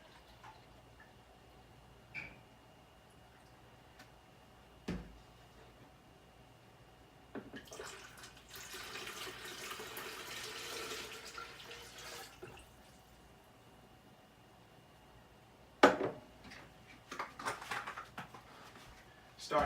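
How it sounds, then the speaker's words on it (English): Juice poured into a sangria pitcher already holding rum, a soft liquid splash running for several seconds after a few light taps, followed by louder clinks and knocks near the end. "now we're going to get our juice in there"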